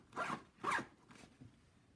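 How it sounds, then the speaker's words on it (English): A zipper on a Peak Design Everyday Sling 5L bag is pulled in two firm, slightly resistant strokes, followed by a fainter third tug, close and clear with no talking. "The zipper pulls okay. It's a little bit resistant, but it's okay."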